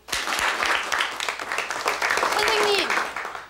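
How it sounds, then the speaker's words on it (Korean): Studio audience applause on a Korean youth variety show, a dense wash of clapping across the whole stretch with voices and shouts mixed in throughout. "박수!"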